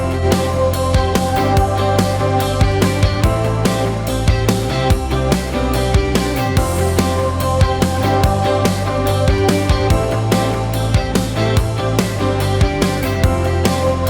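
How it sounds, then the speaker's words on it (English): A full, dense music mix played through an ADC1 compressor/limiter with harmonic distortion on plays continuously with steady beats and thick, warm tones, loud and without any talking. "This total harmonic distortion really fills out a lot of the frequencies without being really harsh"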